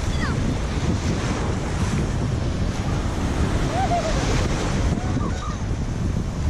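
Surf rolls and breaks steadily along a beach, a continuous loud wash of waves mixed with wind buffeting the microphone, with no clear pauses between swells.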